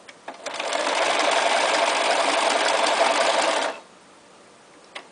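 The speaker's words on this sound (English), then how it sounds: "Basically, it does 3 rows of stitching on top of one another." A Bernina 1230 sewing machine runs a triple-row stretch stitch, a steady rapid whirring hum for about three seconds that stops abruptly, close and clear, with a couple of small clicks before and after.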